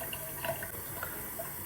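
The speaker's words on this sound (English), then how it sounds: "I just put some cold water on my face." Cold water running from a tap and splashing as it is cupped onto a face, a soft, steady trickle with a few brief splashy bursts, fairly quiet and close, with no talking.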